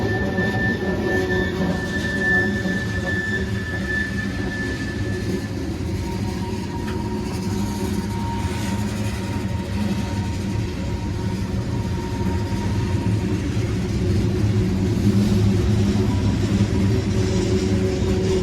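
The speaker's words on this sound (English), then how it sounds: "That's a lot of old BNSF cars" A loaded CSX coal train made up partly of old BNSF cars rolls past steadily, a loud continuous rumble of wheels and cars with faint squeals, sustained without a break and no talk over it.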